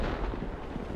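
A Bourrasque tank fires its main gun in World of Tanks, a single loud, heavy boom whose rumbling blast fills the whole short moment.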